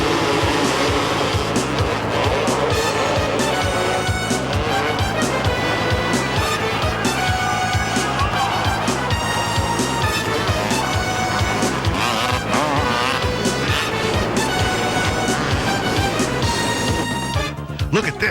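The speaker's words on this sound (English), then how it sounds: "Motorcycles race inside this steel ball." Several motorcycles race inside a steel cage ball at a monster truck show, their engines whining loud and continuous with revving pitch changes and crowd noise throughout.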